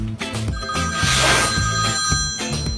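A telephone rings loudly and close by in a morning setting, its electronic bell tone repeating in a steady pulsing pattern with no talk over it.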